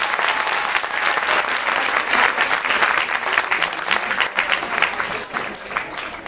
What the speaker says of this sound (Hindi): उसका परिणाम तब घोषित होगा जब आप उतना शोर मचाएंगे तालियों से